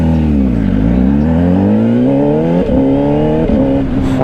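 2025 Honda CBR600RR sports bike accelerating hard, a loud close inline-four engine note climbing steadily in pitch with quick, seamless quick-shifter upshifts causing brief dips around the midpoint and near the end, no speech.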